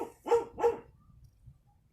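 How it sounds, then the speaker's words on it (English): A dog barks twice in quick succession, loud and close, then the scene falls to quiet background noise. "this dog is a freaking annoying motherfucker"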